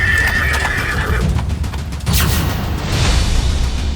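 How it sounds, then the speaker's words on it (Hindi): A horse neighs loudly and steadily, then hooves clip-clop in a rhythmic patter, with a low boom-like rumble underneath. The horse is ridden during a political campaign outing in Mokama, Bihar. "घोड़े पर चढ़कर तेजस्वी उस मोकामा में घूमे"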